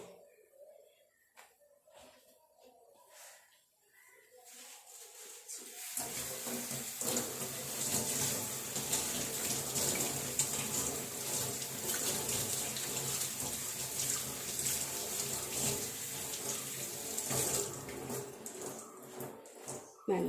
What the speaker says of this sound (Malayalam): നല്ല പോലെ കഴുകിയിട്ട് വെള്ളം പോകണം